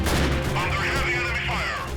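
Game gunfire and explosions in Mount and Blade with a first-person shooter mod, dense booming blasts and rattling shots running continuously, loud and close, with voices mixed in.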